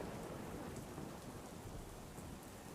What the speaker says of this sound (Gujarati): શહેરમાં ધોધમાર વરસાદ શરૂ થયો છે